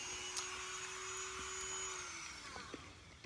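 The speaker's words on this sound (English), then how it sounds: "That's a drill." A steady, high-pitched motor whine runs continuously like a drill, its pitch dipping slightly near the end, with faint ticks in a quiet room.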